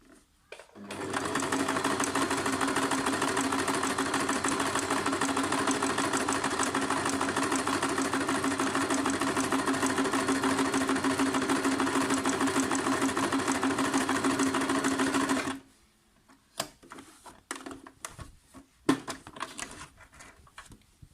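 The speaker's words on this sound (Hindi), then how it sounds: "मशीन जब एक टांका लेती है तो फिर पीछे जाती है और फिर आगे आती है" A Singer Tradition 2263 sewing machine stitching, a loud, steady, fast mechanical whir-and-clatter running continuously for about fifteen seconds, then stopping, followed by a few scattered clicks and handling noises.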